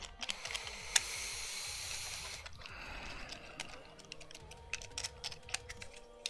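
Fast typing on a computer keyboard, a quiet steady clatter of key clicks with a few louder taps, close and alone in a hushed room.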